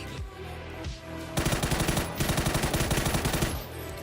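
An M4 rifle fitted with a muzzle brake fires in the video game PUBG, in two quick automatic bursts of sharp, evenly spaced shots after a moment of quieter background sound.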